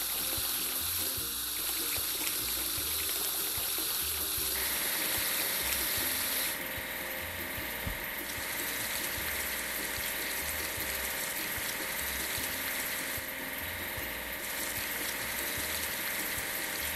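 Steady water spraying hisses in a children's truck-building and car-wash mobile game, with a low engine-like hum beneath. It continues without pause for the whole stretch, and its tone shifts slightly partway through.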